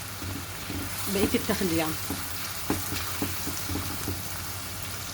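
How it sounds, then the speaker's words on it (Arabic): Onion sizzling in hot oil with a pinch of salt, a steady frying hiss under a voice, with intermittent stirring scrapes and clinks. "اخد عليه رشه ملح تخلي البصله تحمر بسرعه"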